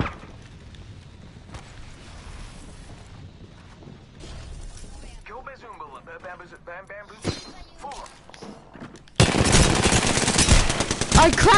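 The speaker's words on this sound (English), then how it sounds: "shots fired and they're hitting me" Gunfire in Apex Legends, quiet scattered game sounds giving way to a loud, sustained burst of close automatic shots near the end, with speech in between.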